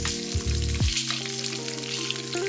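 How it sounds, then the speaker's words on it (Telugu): Eggs frying in a pan over a medium flame for a green egg curry, a steady close sizzle with a few soft clinks and stirring sounds over it. "మీడియం లో ఫ్లేమ్లో పెట్టుకొని ఎగ్స్ని ఫ్రై చేసుకోండి"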